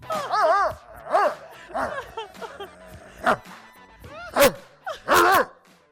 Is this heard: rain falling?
no